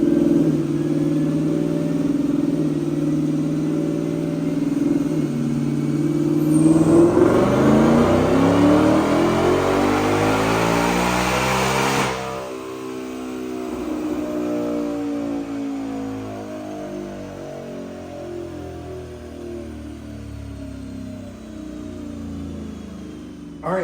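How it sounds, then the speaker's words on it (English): 2024 Ford Mustang GT with automatic transmission and a Whipple Stage 2 supercharger on a chassis dyno, engine droning steadily then sweeping up hard toward 8,000 RPM with supercharger whine before lifting off and winding down, loud and close. "Check out this dyno pull."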